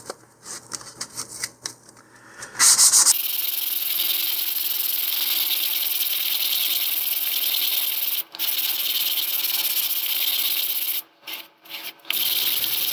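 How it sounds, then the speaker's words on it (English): Basswood model rocket parts being sanded by hand with 150 grit sandpaper on a sanding block, a steady close scratchy rasp running for about ten seconds with a few brief pauses, after some quieter handling at the start. "we will go ahead and do some sanding here."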